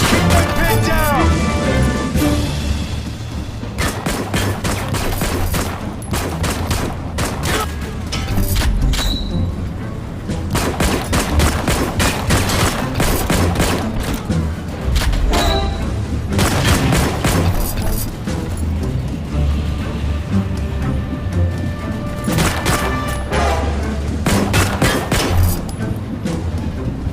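Gunfire in the World War Heroes shooter game clatters in repeated bursts and cracks over a dense battle din of explosions and crashes, with shouted voices mixed in.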